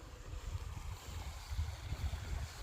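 River rapids at an icy river crossing in Carley State Park, a steady low rushing roar of water heard from a distance, continuous and fairly faint, with no voices.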